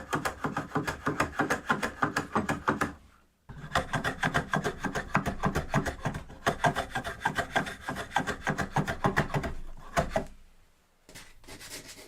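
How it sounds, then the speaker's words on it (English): A wooden tenon is hand-carved and shaped to fit its hole, with close, rhythmic rasping strokes scraping the wood in quick bursts, broken by two short pauses. "So now we need to do some carving and shaping to get it to fit in there perfectly."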